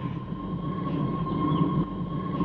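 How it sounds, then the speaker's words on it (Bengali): A train starting to move at a station, a steady low rumble with a sustained mechanical hum, fairly loud and continuous. "দেখো তো ট্রেন চলতে শুরু করেছে"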